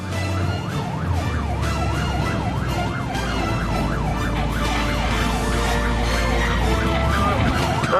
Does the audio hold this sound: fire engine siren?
yes